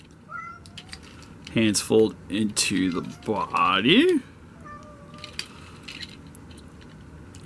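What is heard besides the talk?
cat meowing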